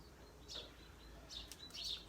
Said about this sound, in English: being able to hear the birds